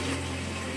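Water poured steadily into a container at home, a close, continuous splashing rush with a faint hum underneath and no speech.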